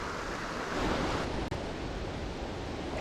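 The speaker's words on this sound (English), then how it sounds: "The water comes in fast and then slows right down" The Water of Leith running fast through Edinburgh, a steady broadband rush of flowing river water with a faint breath of wind across the microphone, no voices.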